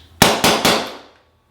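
Three sharp, loud pops fire in quick succession, each with a short ringing decay, from a paintball marker shooting nearby without its lok-bolt fitted.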